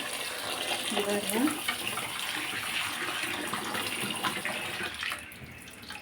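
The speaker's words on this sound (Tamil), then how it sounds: "நல்லா கழுவிக்குவோம், தண்ணி ஊற்றி." Running water pours steadily into a container of black lentils being washed, a continuous close splashing rush that fades slightly at the end.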